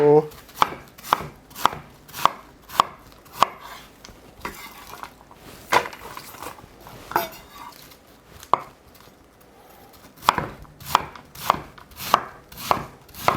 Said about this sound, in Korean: 사이즈에 맞게 네, 요 정도 요 정도 길이로 잘라 주시고